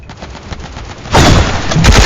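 Gunfire in the Roblox shooter Hypershot starts with light, scattered shots, then breaks into a loud, dense burst of rapid fire that carries on to the end, with no voices.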